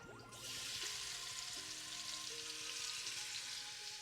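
Shrimp hit a hot pan for shrimp étouffée, and a loud close sizzle flares up almost at once and holds steady, with faint scraping and stirring noises underneath.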